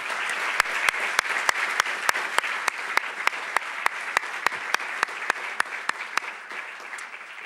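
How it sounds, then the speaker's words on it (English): Audience applause at a university lecture: steady, dense clapping from a full room that runs throughout, with a few sharper near claps standing out regularly, no talking. "So how about a warm round of applause for those supporters?"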